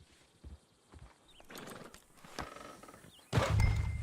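Horse in Red Dead Redemption 2 with scattered hoof clops and thunks, then a loud snorting whinny bursting in near the end, close and fairly faint before that.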